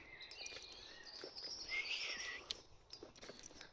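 Faint high chirping and trilling birdsong in the woods, mixed with insect-like buzzing in a quiet setting, no voices.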